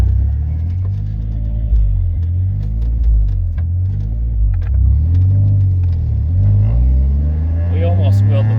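Geo Metro convertible engine pulling hard and revving through gears, a loud steady rumble close by that swells and dips, with someone talking over it.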